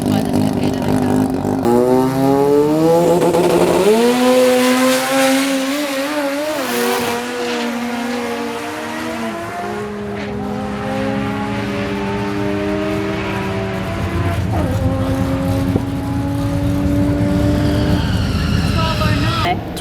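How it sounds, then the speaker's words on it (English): Two cars racing down a drag strip, an RB25DET Nissan 180SX against a competitor car, with loud overlapping engines revving and climbing through gears, some tire squeal, under crowd noise and voices nearby. "Matt's about to get smoked by this competitor car."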